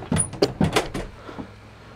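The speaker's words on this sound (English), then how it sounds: "Why is there someone knocking on my door?" Several quick knocks on a door, close and sharp, come in a short irregular burst of about five or six raps before fading into quiet room tone.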